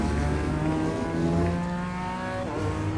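A BMW M4 G82 GT4 race car at Circuit Zolder in iRacing pulls hard in third gear, its engine droning loud and steady with rising harmonic revs, close and continuous.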